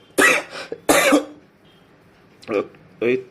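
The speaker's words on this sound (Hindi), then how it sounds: "खांसी की वजह से थोड़ा सा परेशान हूँ।" A few sharp coughs in quick succession, then two shorter, separate coughs after a pause, close to the listener.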